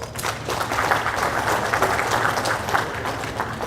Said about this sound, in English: Help me applaud Mr. President.